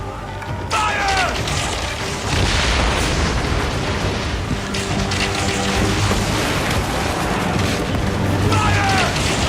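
Ship-mounted cannons fire during a naval battle in Assassin's Creed Origins, heavy booming blasts rolling under continuous battle noise, with shouted voices breaking through at the start and end.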